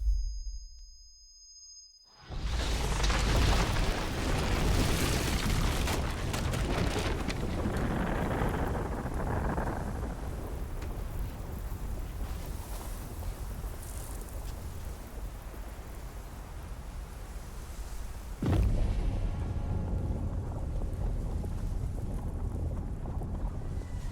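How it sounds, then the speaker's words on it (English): A nuclear explosion in the video game Metal Gear Solid Delta: Snake Eater: a loud, sustained, wind-like roar that bursts in after a short near-silence, slowly fades, then surges again with a second blast wave. "If you're that close to a nuclear explosion, you should just be soup."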